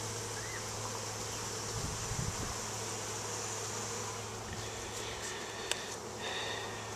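Honey bees buzz steadily around a hive frame during a queen inspection, a low, continuous droning hum heard up close and fairly quiet, with a few faint knocks and rustles.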